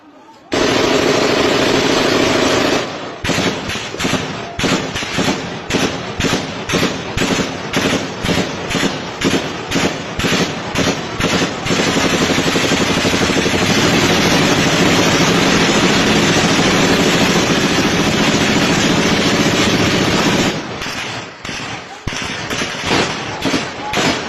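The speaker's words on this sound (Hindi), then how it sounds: "बड़ी गन्स भी चल रही हैं, छोटी गन्स भी चल रही हैं।" Heavy gunfire from both large and small guns, rapid bursts and single shots crowding together into a loud, near-continuous barrage that runs for about twenty seconds, with brief pauses near the start and end.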